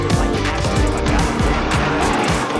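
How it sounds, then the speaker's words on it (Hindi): Inside the cabin of a Hyundai Verna with a turbo petrol engine pushed hard, a loud, continuous engine drone with rising harmonics fills the space, steady and close throughout. "जब इंजन को पुश कर रहा हूँ तो फिर कैबिन वाइट माहौल नहीं रहता"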